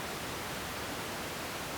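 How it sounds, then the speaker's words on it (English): Steady pink noise, white noise with the high end rolled off and the bass emphasized, a continuous even hiss with a soft, darker tone, heard alone and unchanging throughout. "we can make our white noise pinkish by de-emphasizing the high frequencies and emphasizing the bass frequencies instead"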